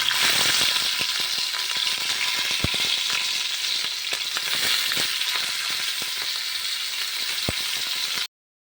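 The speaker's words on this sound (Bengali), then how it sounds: "এবার আমি এক একে মাছগুলি ভাজতে দিয়ে দিচ্ছি" Rohu fish pieces sizzle and spit in hot oil in a pan, a dense continuous crackle close up, with a couple of sharp pops.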